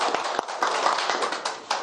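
Audience at a Korea-China forum lecture applauding a professor, close, loud scattered hand claps forming a brisk, uneven round of applause with a few sharper individual claps.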